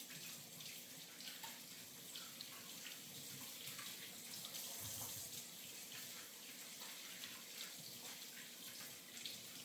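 Water runs steadily from a kitchen tap into the sink during washing up, a constant close hiss with no talking.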